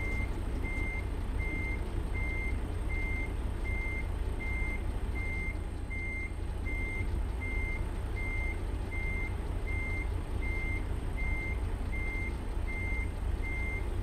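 A truck in American Truck Simulator gives steady, evenly spaced reversing beeps over a constant low engine drone, repeating throughout with no talk.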